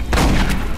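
A single loud, close gunshot in Aliens Colonial Marines, a short heavy blast with a brief rumbling tail.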